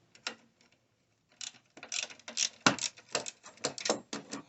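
A tool loosens a Toyota Highlander battery terminal nut, giving close, rapid ratcheting clicks in irregular bursts separated by short pauses, with no talk.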